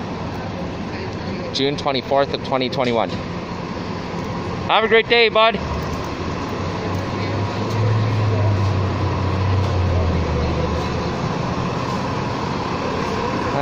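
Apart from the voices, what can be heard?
New Flyer XD40 city bus driving away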